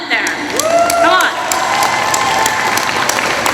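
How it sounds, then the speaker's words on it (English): At a Fresno Hmong New Year celebration in 2023, a crowd breaks into steady applause that swells and holds, with a voice briefly audible at the start. "I want to give a round of applause to all the little girls and all the Hmong women out there"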